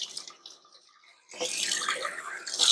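Water runs over a pot being rinsed while making homemade beef stock, a quieter splashing at first that swells into a loud, steady rush of running water for the second half.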